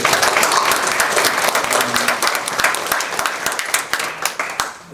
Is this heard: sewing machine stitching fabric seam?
no